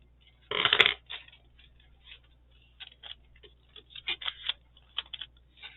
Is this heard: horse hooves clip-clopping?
no